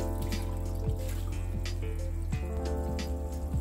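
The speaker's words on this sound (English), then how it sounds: "I wash it out with regular dish soap and a sponge" Running water splashes and gurgles as a Sttoke cup is washed with dish soap and a sponge, a steady close tap stream with a few brief scrubbing knocks.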